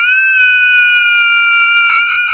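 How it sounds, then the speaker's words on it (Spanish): Loud, sustained scream effect in a horror story, a piercing tonal shriek held steadily for about two seconds with a slight wavering near the end. "Un grito tan fuerte que hizo que mis oídos me dolieran"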